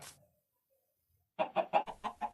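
Chicken in the video game Minecraft, a brief sound at the start, then silence, then a quick run of six rhythmic clucks, clear and close.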